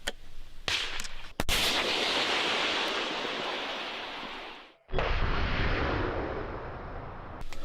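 A Stugna anti-tank missile launch blast cracks out, followed by a long roaring whoosh that holds steady, cuts off briefly, then rushes on again, loud and close.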